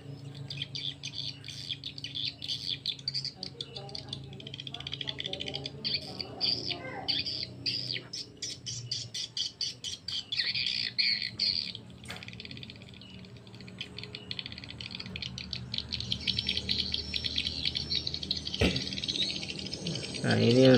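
Swiftlet chick calls played through a speaker, the left channel of a stereo call track, fill the clip as dense, continuous high chirping and twittering over a steady low hum, fairly loud and unbroken.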